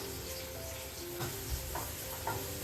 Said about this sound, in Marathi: तेल टाकलंय, त्यात मी थोडंसं जिरं मोहरी टाकते, थोडीशी हिरवी मिरची टाकते आणि एक कांदा, लसूण टाकते।